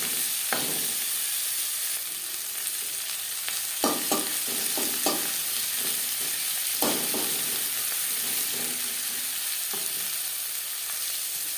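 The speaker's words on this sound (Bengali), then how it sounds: "পেঁয়াজ আমি একটু হালকা করেই ভেজে নেব।" Onion lightly frying in a pan for a vegetable dal: a steady, soft sizzle with occasional spatula scrapes and stirring knocks, no voices.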